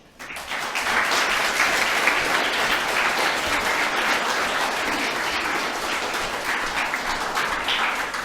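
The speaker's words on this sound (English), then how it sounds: "We'll give her another round of applause." Audience applause at a school presentation day for a recipient of a distinguished achievement award, a dense, steady wash of clapping that swells quickly and holds loud for several seconds.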